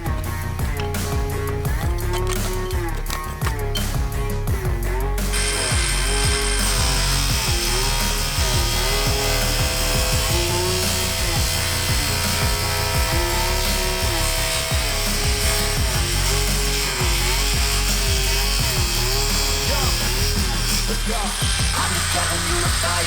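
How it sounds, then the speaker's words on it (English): A power tool grinds and cuts out damaged fiberglass on a boat hull, squaring off cracks for repair; a steady, loud rasping drone runs throughout with music over it. "cutting out the damaged fiberglass and shaping the cracks into clean squares"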